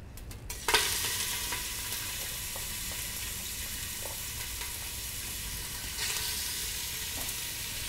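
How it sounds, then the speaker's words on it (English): Beef and vegetables sear in a pot for a stew, giving a continuous soft sizzle with occasional scraping stirs, fairly quiet and close, with no voices. "we're going to sear the meat"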